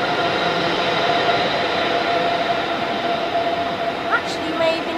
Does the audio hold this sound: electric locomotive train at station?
yes